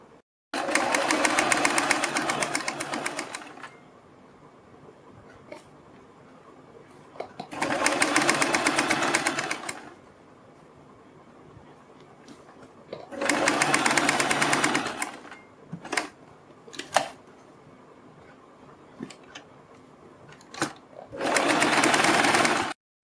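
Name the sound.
sewing machine stitching a kurti neckline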